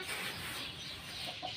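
Fighting roosters and hens at a gamefowl yard cluck in scattered soft calls, moderately close over steady background noise.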